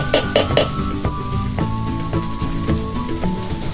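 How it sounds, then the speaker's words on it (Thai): Red curry paste stir-fried in a pan crackles with a continuous, fairly loud sizzle, broken by repeated scraping knocks of a spatula against the pan. "พอผัดให้พริกแกงมันหอมก่อนนะครับ"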